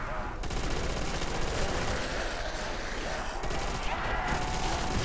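Machine gun in Call of Duty: World at War zombies, firing in one dense continuous burst that runs loud and unbroken through the whole stretch, with no gap between the rapid rounds.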